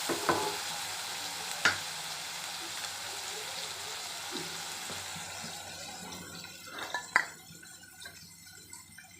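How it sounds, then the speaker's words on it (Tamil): Chicken curry masala with curry leaves sautés in a pan, giving a soft steady sizzle broken by a few sharp scrapes and stirring clinks, fairly quiet and close with no talk. "எல்லாத்தையும் போட்டு திரும்ப வதக்கணும். நல்லா வதங்கட்டும்."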